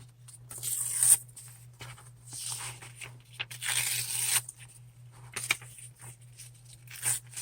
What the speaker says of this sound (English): I'm grabbing this piece of music paper, and then I'm just going to rip some of it to fit here.